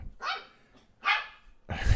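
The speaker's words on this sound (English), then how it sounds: "Puppy in the background." A puppy barks three times at even intervals in the background, sharp and moderately loud, with quiet gaps between barks.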